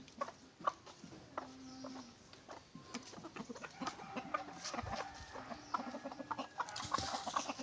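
Chickens clucking and pecking at organic feed, with busy overlapping soft clucks and scattered pecking taps close by, growing livelier toward the end.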